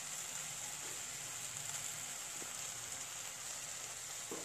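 Chili frying in hot oil during a Chandwad cooking contest gives a steady, dense sizzle with a bright hiss and scattered small crackles, continuous and fairly close for the whole stretch, with no voices over it.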